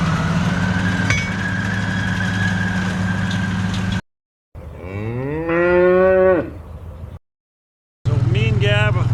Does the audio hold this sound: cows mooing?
yes